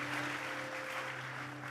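Members of a church congregation at a worship service clap together, producing a continuous, moderately loud roll of applause that fills the room and holds steady over a faint electrical hum, with no talking.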